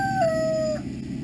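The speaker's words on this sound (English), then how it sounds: "He's out there crowing like an idiot." A rooster crows once outdoors, a single drawn-out, slightly falling call lasting under a second, moderately loud and alone.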